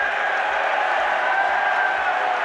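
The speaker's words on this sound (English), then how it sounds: "oh, see, they're cheering for cancel culture" An audience at a Young America's Foundation event cheers and applauds together, a continuous dense roar of clapping and whoops held at a steady level throughout.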